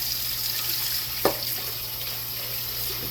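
Tap water running steadily into a pot while raw chicken is rinsed in a home kitchen, a continuous hiss of flowing water with one brief splash partway through, no talking.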